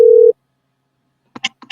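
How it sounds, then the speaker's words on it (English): An outgoing phone call's ringing tone sounds as a single short, steady electronic tone, then silence, followed by a few brief voice fragments. "I'm gonna call one of my boys right now."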